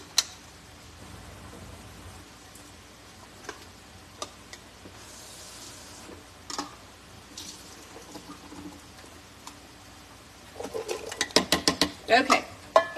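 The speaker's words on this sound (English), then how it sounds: "Okay, so those beans are going in." Canned pinto beans are tipped from the can into a pot. Faint scraping and soft clicks come first, then a burst of rapid wet plops and thuds near the end.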